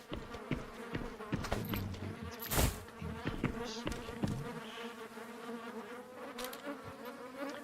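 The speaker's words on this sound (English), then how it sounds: "That buzzing is terrible." Insect buzzing in the video game Contractors Exfilzone, a steady close droning hum running throughout, broken by sharp clicks and knocks and a brief loud burst midway.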